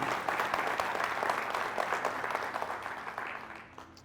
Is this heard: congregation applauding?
yes